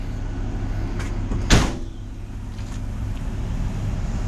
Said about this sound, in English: Now when you close the barn door here in the rear, the hydraulic will automatically go back up.